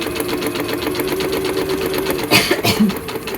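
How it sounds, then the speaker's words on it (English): Janome MOD 30 sewing machine stitching a seam on paper, a fast, even mechanical whir of needle strokes, close and steady, briefly broken near the end by a cough and a short vocal sound. "It's actually, to be completely honest, easier to sew to the 5/8 inch seam allowance line."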